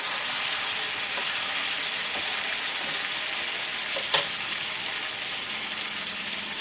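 Water goes into a pan of chicken dopiaza, setting off a steady, close, loud sizzle with bubbling and a few small clinks of stirring throughout.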